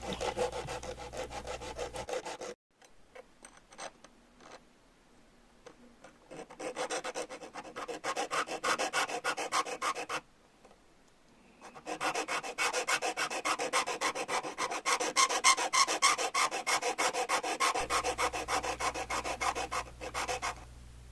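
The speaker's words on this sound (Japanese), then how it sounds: "次に糸のこで切り抜いたところをヤスリで形を整えていきます。" A hand file shapes a fret-sawn end plate for an old Katsumi KiHa 82 model train car body, producing repeated close rasping strokes in long runs separated by brief pauses.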